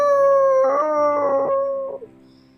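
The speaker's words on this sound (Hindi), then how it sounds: "कुत्ते भौंक रहे हैं।" A dog gives a long, close howl that rises, wavers and breaks into yelps before fading out, set as a night-time sound effect in a dramatic audio story.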